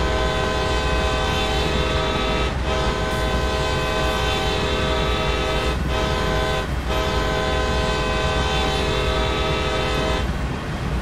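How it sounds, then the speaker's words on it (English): A sustained, steady locomotive horn from the video game Train Sim World blares loudly and continuously, its flat electronic tone holding for the whole stretch with only brief dips. "the horn on this locomotive does not sound like a real road engine's horn"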